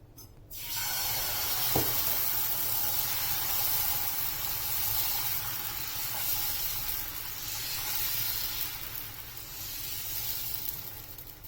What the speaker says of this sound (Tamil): இப்போ நம்ம கரைச்சி வச்சிருந்த மாவை தோசை மாதிரி ஊற்றி எடுத்துக்கலாம்